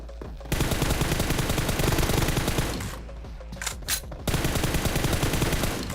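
Rapid gunfire from a PUBG Mobile team deathmatch tournament game, dense sustained bursts of automatic shots that pause briefly near the middle and then resume loudly.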